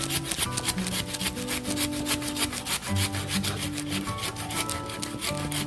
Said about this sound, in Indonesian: Sekarang kita lakukan proses pemotongan dahan. Kita gunakan gergaji.